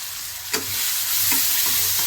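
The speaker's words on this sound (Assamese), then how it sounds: "এইদৰে মই লৰাই অলপমান ভাঙি লৈছোঁ।" Vegetables being stirred in a hot pan for an Assamese curd dish, with a steady frying sizzle and a few distinct scraping strokes of the spoon against the pan.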